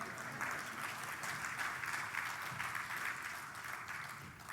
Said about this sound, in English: I want you all to give Vernon a round of applause